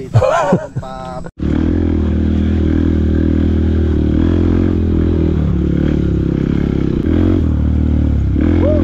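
Dirt bike on an off-road trail ride in Bulacan, its engine droning loud and close with a steady, rough note, rattling and scraping over the ground after a brief burst of voices at the start.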